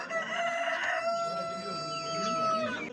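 At a village chicken market, a rooster crows close and loud in one long drawn-out call, over a murmur of crowd voices and background clucking.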